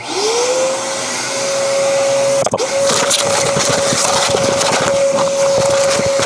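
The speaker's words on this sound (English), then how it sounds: "And then we have Mega Maid, sir. She's gone from suck to blow." Mega Maid vacuum cleaner running while cleaning out a teardrop camper: a loud steady whine that rises as the motor spins up, briefly cuts out with a clunk, then continues with rattling debris.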